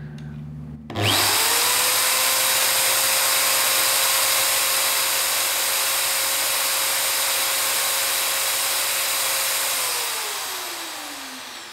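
Electric drill, part of a 115-piece kit, spun up at its maximum speed setting: a loud, steady high whine that starts abruptly after a click, holds evenly for about nine seconds, then winds down as it slows.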